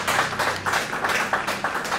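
A television studio audience claps to welcome a guest on a variety show, the clapping falling into a quick, even rhythm of sharp bursts that stays loud and close with no talking over it.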